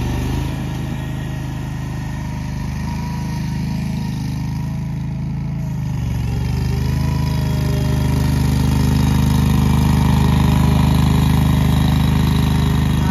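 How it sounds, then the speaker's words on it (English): A 2021 John Deere 2400 precision cut greens mower runs steadily on a golf course green, a continuous mid-pitched engine drone with a slight rise in loudness toward the end, no voices. "There you can see it cutting the greens there."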